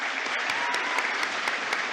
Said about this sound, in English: Seniors, I'd like for you to give these people a great big round of applause.